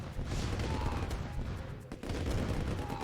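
Rapid rifle infantry gunfire from Command and Conquer: Red Alert, a steady dense crackle of shots that fills the whole stretch with a brief dip near the middle, loud and close.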